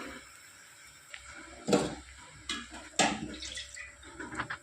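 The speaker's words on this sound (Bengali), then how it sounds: "এবার দিয়ে দেবো পরিমাণ মতো জল।" Water is poured into a pot of khichuri made with gobindobhog rice and moong dal, giving a few short splashing gushes with soft knocks between them, close and fairly quiet.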